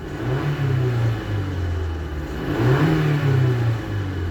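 Mazda CX-7 2.3-litre turbo petrol engine with 170,000 km, warmed up after a cold start, revs up and holds, eases off, then revs again in a loud, close, steady rumble with no talk.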